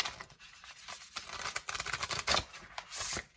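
Tarot cards are shuffled by hand at close range, a soft flurry of riffling and rubbing that comes in irregular bursts.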